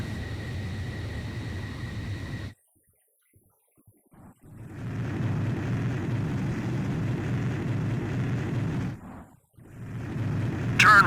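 Jet engine roar from an aircraft on carrier landing approach in the video game Ace Combat 5, a steady loud drone that cuts out for about two seconds and then returns at full strength, with a brief dip near the end.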